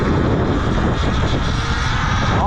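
Talaria MX4 electric dirt bike at full throttle: a loud, continuous broadband rush of wind and motor roar recorded close by, steady throughout with no pauses.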